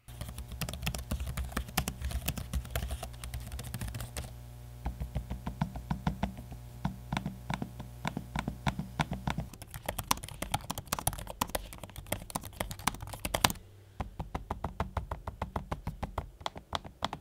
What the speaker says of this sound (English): here's a quick audio sample of the trackpad and keyboard in use